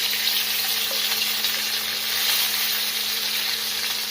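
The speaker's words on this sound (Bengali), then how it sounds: "এভাবে দুপাশি লাল করে ভেজে নিতে হবে পটলগুলো" Pointed gourds (potol) being shallow-fried in hot oil until reddened on both sides, giving a steady, close, even sizzle with no break or voices throughout.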